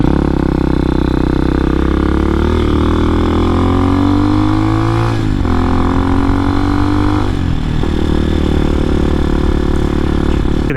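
A 250cc enduro motorcycle engine pulls steadily uphill under load, its loud, continuous drone rising and falling in pitch with throttle changes and a brief dip midway.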